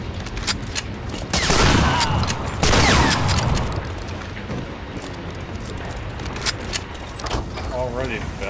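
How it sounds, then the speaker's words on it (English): Rifle fire in Medal of Honor: Breakthrough comes as a loud, dense fusillade of sharp close cracks and heavier booms. The shots arrive in clusters with short gaps between them, and someone talks over the battle noise. "those are rifle rounds."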